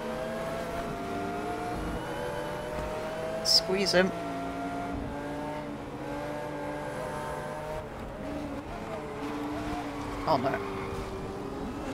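A Ford Mustang muscle car engine revs and roars through gear changes while racing in Test Drive Unlimited Solar Crown, steady and close with other cars around and brief louder impacts, as someone talks over it.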